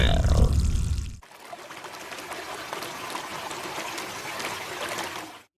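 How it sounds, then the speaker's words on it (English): Water poured by hand onto a potted plant, a soft steady trickle and splash running for several seconds after a brief rustle, fairly close and quiet. "Now let's go water the plant with one hand."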